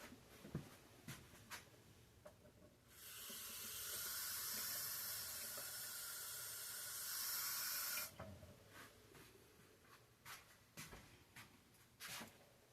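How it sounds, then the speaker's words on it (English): Water runs into a crock pot to loosen stuck-on cooked BBQ chicken legs, a steady rushing pour lasting about five seconds between quieter handling sounds, with no talk. "I'm going to put a little bit of water in this to get it out."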